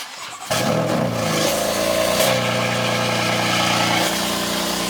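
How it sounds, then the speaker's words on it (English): BMW M4 with a flame tune fires up from a cold start, its engine catching with a loud surge and then settling into a steady, rumbling high idle, close by with no voices. "let me give y'all a quick cold start"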